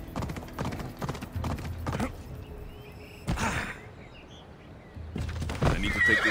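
A horse in Assassin's Creed Odyssey whinnies loudly while hooves clip-clop on the ground, with a short neigh in the middle and more hoofbeats toward the end.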